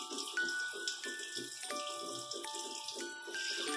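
Warm water running steadily from a tap while a very dirty white cat is bathed, a continuous close splashing flow with faint clinks.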